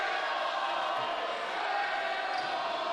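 A crowd at an LTU men's basketball home game against University of Michigan Dearborn keeps up a steady, dense roar of cheering and shouting that fills the gym for the whole stretch.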